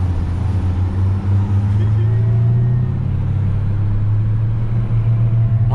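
Engine of a 2021 Dodge SRT Hellcat Durango while driving, a loud steady low rumble holding throughout from inside the cabin, with people talking over it.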